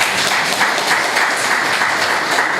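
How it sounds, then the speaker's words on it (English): Dense, steady applause from an audience at a sustainable-agriculture farmer field school certificate ceremony, filling the whole stretch loudly with no voices over it. "I'm going to ask you to give Professor Scott another round of applause."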